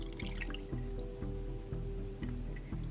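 Water pours into a potion powder mix for a Minecraft minifigure toy, giving soft wet drips and squishy plops in a regular rhythm, close and quiet.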